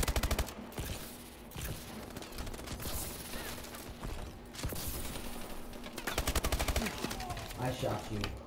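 Rapid bursts of gunfire crackle through a multiplayer video game match, with machine-gun volleys and single shots repeating loudly in clusters, under occasional voices.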